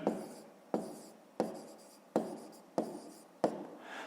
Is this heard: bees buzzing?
no